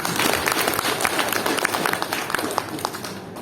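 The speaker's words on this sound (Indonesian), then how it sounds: "Kita tepuk tangan." Congregation clapping inside a church in Indonesia, a steady patter of many hands that runs the whole time at moderate loudness and thins slightly toward the end.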